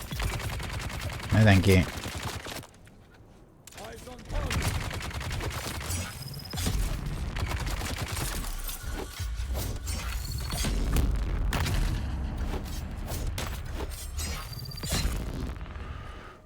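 Enemy mobs in a video game fire shotguns in rapid crackling bursts, dense and loud, alongside mechanical clanks and creaks, with a player's voice speaking briefly over the chaos.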